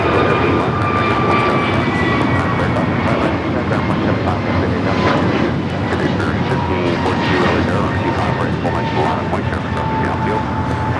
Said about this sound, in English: 1024 taking off to Orlando, Florida on the A321neo